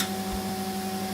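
Record player needle riding a blank groove of a lathe-cut record, a steady surface hiss with faint hum and soft rhythmic ticking, quiet and continuous.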